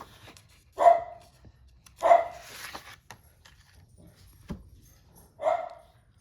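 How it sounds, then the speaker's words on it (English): Dogs at home barking in a quiet room, three sharp separate barks spaced a second or more apart, moderately close, with a soft thump between them and no talk. "My dogs are being a pain, so I will have to voice over as usual."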